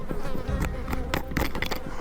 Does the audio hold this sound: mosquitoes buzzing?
yes